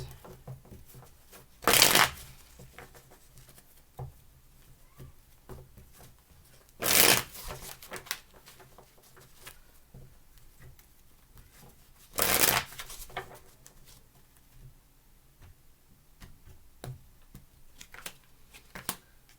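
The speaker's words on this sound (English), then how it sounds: "Give me 3 shuffles, please." Three short bursts of tarot cards being shuffled, spaced several seconds apart, with quiet rustling and faint background noise in between.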